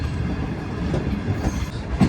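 A moving Shah Hussain Express passenger train rumbles steadily close by, with low clattering wheel noise and a brief knock near the end.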